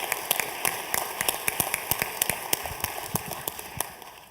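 Audience clapping at the opening session of the New Game 2011 conference, a steady patter of many hands with sharp individual claps standing out, moderately loud and continuous with no talk over it.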